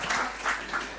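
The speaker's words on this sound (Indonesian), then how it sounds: "Boleh beri tepuk tangan untuk beliau" Audience at a university event applauding a professor being introduced, brief clapping heard a little distant in a large hall, moderately faint and swelling in a few bursts.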